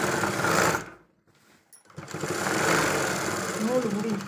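A sewing machine stitches a girls' uniform skirt, running in steady bursts that stop briefly near the middle before starting again, with a voice talking over the machine.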